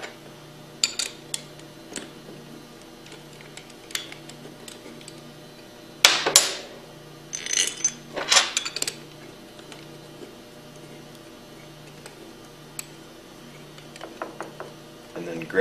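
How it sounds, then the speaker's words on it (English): Bolts being threaded by hand into the discharge manifold of a Hypro 2535S piston pump: sparse metallic clicks and ratcheting scrapes, with a louder cluster of clinks and handling noise midway, close by against a quiet hum. "turn the bolts in by hand to run the discharge manifold in evenly"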